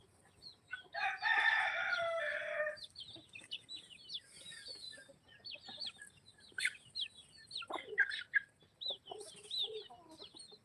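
Free-range village chickens on a small country poultry farm cluck steadily while a rooster crows loudly near the start, with more clucks and calls scattered through the rest.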